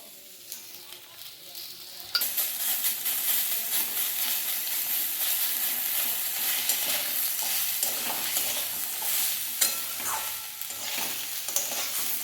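Quiet rustle, then grated ginger hits a hot pan for vegetarian khichuri and bursts into a loud, sustained sizzle with stirring scrapes and occasional sharp crackles. Nobody speaks.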